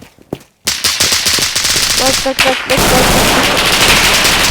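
Rapid bursts of gunfire in a Roblox game crackle loudly and nearly nonstop, with a voice briefly talking over the shooting.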